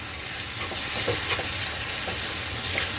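Coriander chutney is sautéed in a pan, giving a close, steady sizzle with soft intermittent stirring scrapes and no voices.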